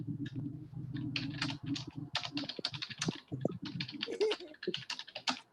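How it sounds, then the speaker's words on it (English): Fast, irregular clatter of keys on a computer keyboard, close and fairly quiet, with a brief low voice murmuring near the start before the typing continues alone. "listen to David typing"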